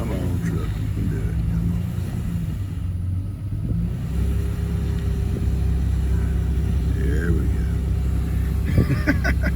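A truck crawls along slick, rain-soaked dirt and gravel at the edge of a road, its engine rumbling low and steady with a strained, droning tone, and a person speaks now and then over the noise.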